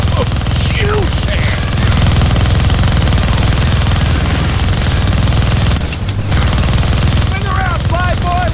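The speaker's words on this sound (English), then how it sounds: "Gonna need both hands to shoot that minigun" A minigun in the Deadpool video game rips out a sustained, loud, buzzing stream of rapid fire that runs almost unbroken, pauses for a moment, then resumes, with squealing effects over the top.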